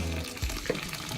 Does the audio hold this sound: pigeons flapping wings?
no